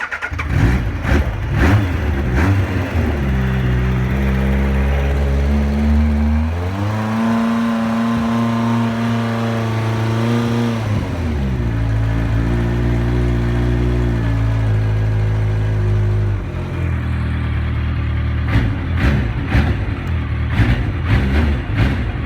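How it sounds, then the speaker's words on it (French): A Yamaha FJ 1100 motorcycle engine, not fully warm, idles loudly with a deep, throbbing exhaust note, then revs up and settles back down, a steady mechanical roar with no one speaking. "je vais la faire démarrer une dernière fois pour le plaisir du bruit moteur et échappement"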